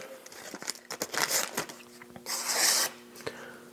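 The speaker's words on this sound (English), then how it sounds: "Let's bring that receipt paper back." Receipt paper being handled and folded by hand in a workshop, crisp crinkling and rustling in short bursts with a longer crumpling stretch near the end, close and fairly loud.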